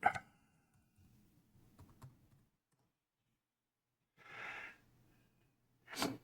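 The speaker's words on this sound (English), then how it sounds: "So we're going to type in fire" Typing on a computer keyboard sounds as a few brief, faint clusters of soft key clicks with long quiet gaps between them.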